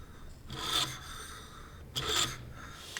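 Two passes of an abrasive sanding belt grind against a dagger handle being profiled, each a close, steady rasping whoosh lasting about a second over a low motor hum.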